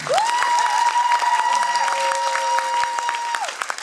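Crowd applause fills a hall during a stage performance in Poprad, continuous and full, with a steady whistling tone gliding up, holding and dropping over the clapping.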